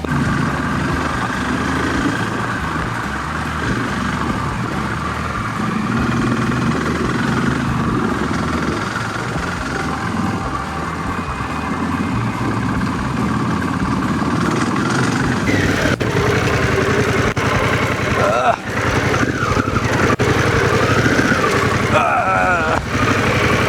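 Harley-Davidson Pan America motorcycles idle close by off-road with a steady, throbbing engine drone throughout, as people talk over the running motors.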